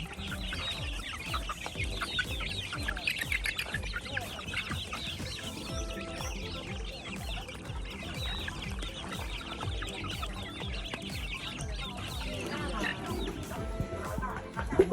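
Chickens clucking at feeding time on a rural Thai farm, a busy flock pecking and clucking close by, with scattered bird calls and a steady clatter of activity throughout.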